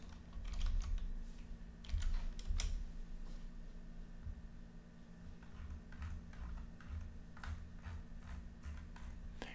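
Steady clicking of computer keyboard keys in quick irregular bursts, close up, with a low hum underneath and no talking.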